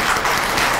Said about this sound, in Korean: 너무 귀한 사역하고 계시는 박진권 선교사님께 우리 다시 한번 응원의 박수 좀